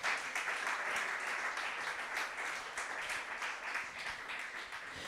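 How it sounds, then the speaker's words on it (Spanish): Church congregation applauding during a Spanish-language sermon: sustained dense clapping with no break, moderately distant and fairly even in loudness throughout. "Regálele fuerte esa ofrenda de aplauso."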